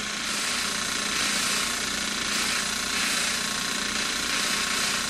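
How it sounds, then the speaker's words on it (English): Mamod ME3 model steam engine with a leaking safety valve, giving a loud, continuous hiss of escaping steam over a steady mechanical chatter close by, with no talking. "Safety valve on the ME3 seems to be leaking."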